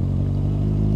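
Kawasaki Z1000 motorcycle engine running at a steady, deep, throbbing pitch, loud and close, a brief continuous drone with no speech.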